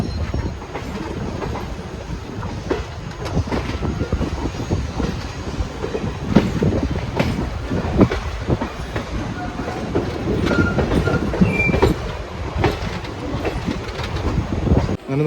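Palaruvi Express pulling into Palakkad Junction, heard from on board: loud continuous rumble and rhythmic wheel clatter over rail joints, with occasional sharp clanks and faint squeals as it rolls in.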